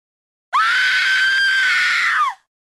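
A woman's sustained, loud scream in the King Kong video game, a single unbroken cry of terror lasting nearly two seconds with no talk around it.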